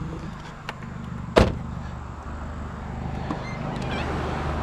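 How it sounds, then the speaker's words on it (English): A car idles with a loud, buzzing muffler, a steady low drone running the whole time, with one sharp thump near the start. "you can hear my loud muffler, like, super loud, just buzzing the whole time"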